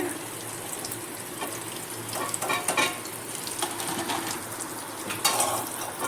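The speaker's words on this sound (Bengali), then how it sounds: "তার মধ্যে আলুগুলো দিয়ে ভেজে নেবে এবার আমি ফুলকপি আলুগুলো তুলে নেব" Cauliflower florets and potatoes frying in hot oil, a continuous close sizzle with crackling bursts and occasional stirring, no talking.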